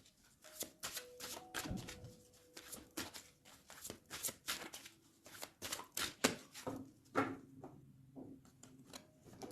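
A deck of tarot cards being shuffled and cut by hand, close and fairly quiet, with a steady run of soft riffling flicks and slaps through the whole stretch.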